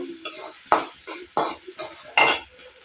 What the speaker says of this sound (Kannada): ಈಗ ಇವೆರಡೂ ಫ್ರೈ ಆದ ನಂತರ ಇವನ್ನ ಹಾಕ್ಕೊಂಡು ಮಿಕ್ಸ್ ಮಾಡ್ಕೊತೀನಿ ರೀ.